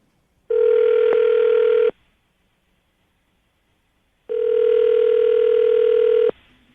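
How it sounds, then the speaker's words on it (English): Two separate bursts of a steady telephone dial tone, each lasting over a second with a pause between them, loud and clear with nobody talking. "let's make your phone call then"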